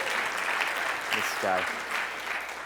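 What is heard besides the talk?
audience applause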